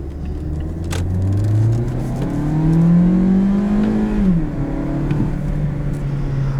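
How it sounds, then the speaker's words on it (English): A 2017 Toyota Yaris iA pulls away hard from a standstill. Its engine note climbs steadily and loudly, close by, then drops sharply at a gear change before climbing again. No one speaks. "I'll do one more acceleration from a dig for you guys"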